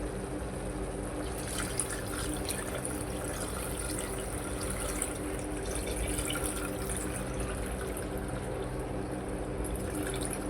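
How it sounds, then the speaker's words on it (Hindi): Water is poured into a pan to make gravy for soybean badi kofta, a steady continuous splashing pour that stays loud and close throughout, with no talking. "यहाँ पर हम थोड़ा पानी ऐड करेंगे इसमें"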